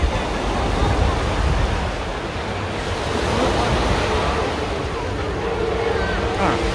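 Ocean waves wash continuously onto Waikiki beach in Honolulu, Hawaii, a loud, broad surf roar with some wind noise on the microphone and no break in the sound.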